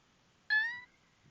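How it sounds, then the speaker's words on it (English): A contented cat gives a single short, bright meow, clear and close against an otherwise quiet room. "Happy kitty noises."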